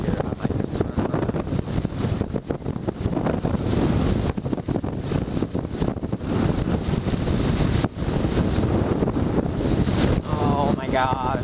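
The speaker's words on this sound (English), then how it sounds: "it's like gale force winds right now" Strong gale-force wind buffets a motorcycle rider's microphone, a loud continuous roaring rumble with irregular gusty thumps throughout, and a voice speaks over it.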